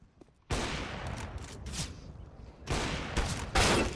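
Rapid bursts of gunfire from Counter-Strike: Global Offensive, close and loud, arriving in three dense volleys after a quiet start, with no talking over them.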